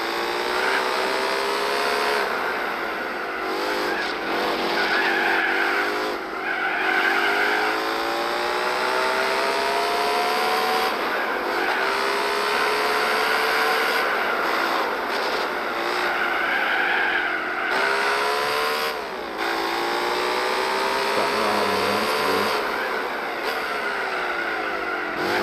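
A Lamborghini Diablo with a V12 engine races in Gran Turismo 4, its loud engine whine climbing and dropping through gear changes over a continuous stretch, with tire squeal and skidding in the turns.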